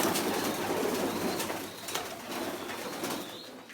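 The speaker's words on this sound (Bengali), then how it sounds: "এখানে বেশ কিছু কবুতর আছে" Pigeons cooing softly on a pigeon farm amid a steady hum of background noise, with faint fluttering and low murmurs throughout.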